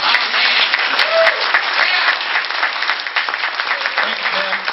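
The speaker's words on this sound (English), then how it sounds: "if everyone would just give Bob a round of applause" Sustained audience applause at a 2011 speakers and sponsors event, a dense, steady wash of many hands clapping throughout, loud and close with no pauses.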